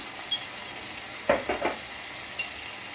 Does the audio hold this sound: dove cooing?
no